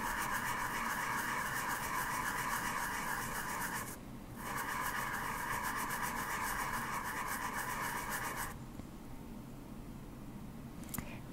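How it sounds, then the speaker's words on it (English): Sanding stick rubbing a sterling silver clay band ring in steady, rapid back-and-forth strokes, close and continuous, with a brief pause partway through before resuming and then stopping. "I'm gonna use the sanding stick to continue my shaping."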